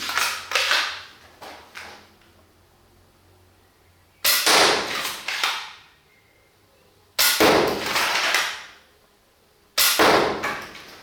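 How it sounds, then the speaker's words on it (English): A Barnett Phantom repeating crossbow shoots bolts into a target in four bursts, each a sharp clack followed by rattling mechanical noise and a fading impact, separated by quiet pauses, close and loud with no speech. "I hit the first bolt with the other 2 so that they didn't stuck, since they just hit the rear end in a perfect Robin Hood shot manner"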